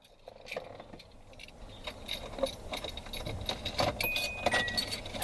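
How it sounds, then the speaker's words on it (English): A set of all-metal keys for a 1982 Datsun 280ZX Turbo jingles and clinks close by, quiet at first and growing busier and louder toward the end. "keys are all metal"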